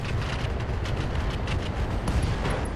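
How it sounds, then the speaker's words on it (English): An LRM ammunition explosion detonates inside a mech in the RogueTech mod of BattleTech, a dense, sustained rumbling blast of booming low-end roar with crackling bursts layered on top, loud and continuous throughout. "we actually get an LRM ammo explosion"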